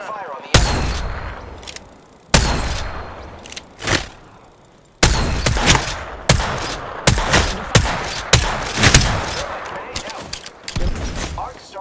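Video game gunfire in Apex Legends: sharp bursts of shots and thuds separated by short pauses, loud and close, with a voice talking between the volleys.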